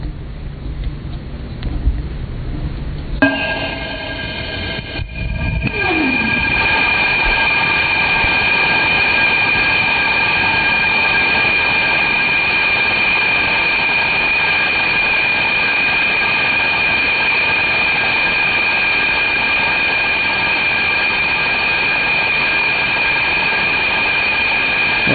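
BE-3 liquid oxygen and liquid hydrogen rocket engine test firing: after a few quieter seconds, a loud, steady roar ignites and holds without break for the rest of the clip, with no voices.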